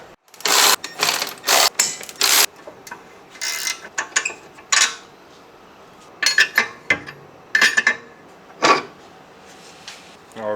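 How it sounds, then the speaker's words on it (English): Coilover top nuts on a BMW E46 strut mount being removed with a hand tool, giving bursts of sharp ratcheting clicks and metallic rattles separated by short pauses, close up. "We're going to now take the 3 top nuts off the coilover up here"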